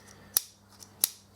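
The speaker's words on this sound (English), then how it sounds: "it really kicks those scissors back" The spring-loaded scissors of a SOG Powerlock multitool snap shut twice. Each is a crisp, close metallic click, spaced well apart, with faint handling noise between them.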